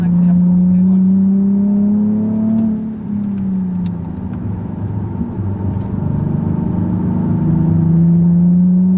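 A Nissan 370Z roadster engine revs hard on the Nogaro circuit and climbs in pitch, dips briefly, then pulls strongly again, loud and close with someone talking over it.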